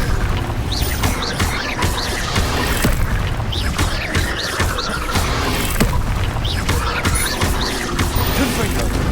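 Repeated Bombarda blasting-spell explosions in Hogwarts Legacy. Booming impacts and crashes keep coming throughout, layered over continuous loud combat noise, with a voice speaking amid the blasts.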